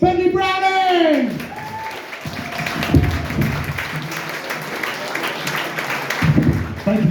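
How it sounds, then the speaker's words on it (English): A comedy club audience in Chelmsford applauds for a comedian, a steady clapping crowd that follows the host's energetic voice and continues as he speaks over it. "can we have a rapturous round of applause, please, for the wonderful Bentley Browning!"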